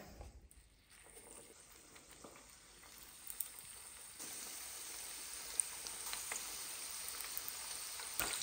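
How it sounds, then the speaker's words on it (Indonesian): Tofu fries in oil in a pan while bakso Malang is being made, giving a faint, steady sizzle and crackle that grows louder and fuller partway through and keeps going. "Kita goreng dulu tahunya."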